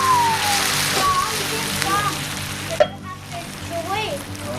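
Stuffed squid simmering in tomato sauce topped up with water over an open fire, giving a continuous close sizzle and bubbling, with brief sloshes and clinks and a voice talking over it.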